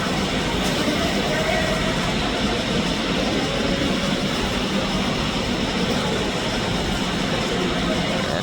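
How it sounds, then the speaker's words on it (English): A Thai Airways Boeing 787 Dreamliner roars steadily in the distance at Sydney Airport, a broad, washing rumble with faint voices murmuring underneath. "Yeah, there it goes. Beautiful Thai Airways Dreamliner."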